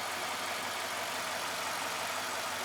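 A 2013 Ford F150 engine idles with a slight misfire stumble from a faulty number 8 intake valve, a steady close hiss-heavy drone with no clear break in its rhythm.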